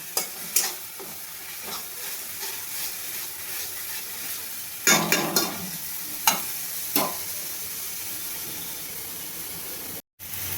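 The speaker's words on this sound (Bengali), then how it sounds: "আমি মশলাটাকে আবার ভালোভাবে কষিয়ে নেব" Spice paste for raw banana kofta curry being sautéed in a pan, an even sizzle broken by several brisk scraping stirs, a cluster near the middle, close and moderately loud, no voices.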